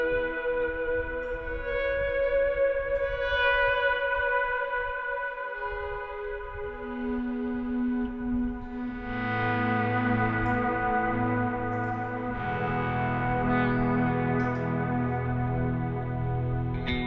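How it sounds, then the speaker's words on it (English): Electric guitar notes swell through a dark, long mono delay stacked with heavy reverb, from a worship pedalboard. Sustained tails overlap and a deeper note enters midway, with no voices. "that dark, long, reverby type delay, which when you stack it with reverb, it's the perfect swell type"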